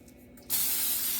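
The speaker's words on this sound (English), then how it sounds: "I'm gonna spray it down," Cooking spray hisses onto an aluminum pan for roasting green beans and vegetables: a quiet moment, then a sudden steady loud aerosol hiss running continuously to the end, close by.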